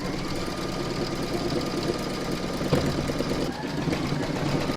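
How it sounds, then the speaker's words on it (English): An embroidery machine stitching decorative top stitching over satin stitch on an in-the-hoop bunting piece, a steady rapid mechanical whirr and needle chatter, close and continuous with no talk. "we're now going to stitch the final round number 18, and that's the decorative top stitching over the satin stitch"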